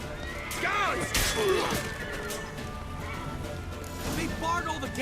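A horse in the video game The Witcher 3 whinnies twice amid busy background commotion, with clattering hooves and thuds mixed in at moderate volume.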